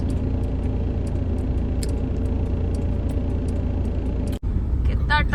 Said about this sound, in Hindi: कितना ट्रैफिक है,